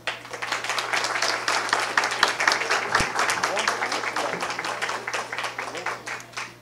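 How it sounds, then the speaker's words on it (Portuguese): Steady audience applause welcomes a speaker at a Brazilian election forum, a dense run of clapping lasting several seconds at even strength before tapering off. "Por favor, uma salva de palmas, Daniel"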